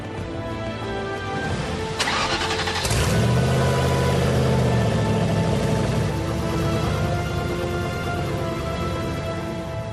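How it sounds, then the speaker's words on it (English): A Gumpert Apollo supercar engine cranks and catches on its first start, settling into a loud, steady, rumbling idle close by after an initial burst of noise. "We start the engine for the first time."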